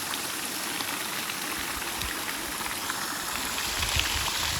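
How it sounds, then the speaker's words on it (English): A waterfall in Casper, Wyoming, heard as a steady, dense rushing of water that fills the scene evenly from start to finish, with no talk over it. "This is the waterfall in Casper, Wyoming."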